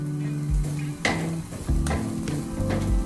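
Fried Sri Lankan-style tin fish with sprinkled pepper and cumin powder being stirred in a pan: continuous sizzling broken by repeated spoon scrapes and low knocks against the pan, close and fairly loud.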